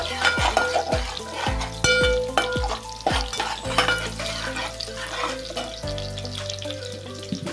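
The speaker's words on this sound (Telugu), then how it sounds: "దంచి పెట్టుకున్న వెల్లుల్లిపాయ వేసేసుకొని మళ్ళీ ఒకసారి కలబెట్టుకోండి." Crushed garlic frying in a pan for methi rice, stirred with a utensil that knocks against the pan in a run of sharp clanks over a steady close sizzle.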